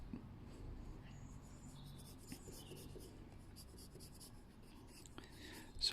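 Pencil drawing eyelashes on a caricature sketch, faint close scratching in soft, short repeated strokes in a quiet room, with a louder rustle at the very end.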